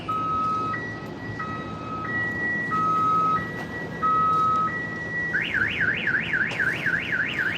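Loud alarm from a FedEx delivery truck on an Upper West Side street in New York City, alternating between two steady tones in a slow hi-lo pattern before shifting into a fast, continuous warble, with no talking.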